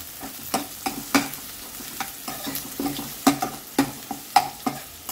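Onion frying over low heat in a pan while a spoon stirs it, about a dozen rhythmic scraping strokes over a soft sizzle, close and clear.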